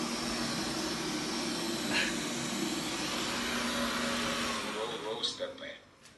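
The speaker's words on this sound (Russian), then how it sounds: "Это пылесос." A robot vacuum cleaner runs with a steady, loud whirring hum close by. The hum drops and sputters toward the end as it winds down.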